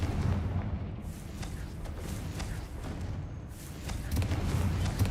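A Confringo blasting spell strikes a barricade in a Harry Potter video game, giving a loud, rumbling explosive burst that swells at the start and again near the end over continuous heavy booming.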